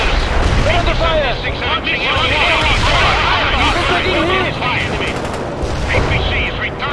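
Battlefield gunfire and explosions in the real-time strategy game World in Conflict, a dense, continuous barrage of shots and booms with voices calling out over the din throughout.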